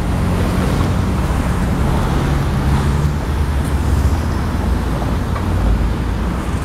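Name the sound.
street traffic at an intersection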